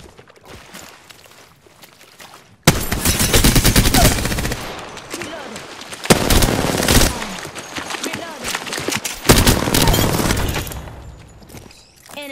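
Loud automatic gunfire in Apex Legends in repeated bursts separated by short pauses, with crackling impacts and voices speaking over the shooting.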